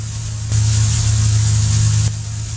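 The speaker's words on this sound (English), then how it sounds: "this engine doesn't sound too good, does it?" Piper PA-31 Chieftain twin piston engine drone in the X-Plane flight simulator, a steady loud hum that swells briefly louder for about a second and a half before settling back, with no talk.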